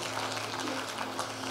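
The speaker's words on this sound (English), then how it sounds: "Clap for all of yourself." A church congregation applauds, a steady dense patter of many hands clapping at moderate volume with a low hum underneath.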